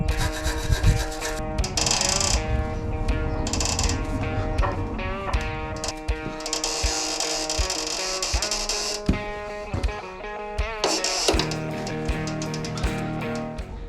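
Rusty shock absorber nuts come off an MG TF front subframe during strip-down. Close, squealing, grating scrapes run almost continuously, with brief pauses between turns and no talking.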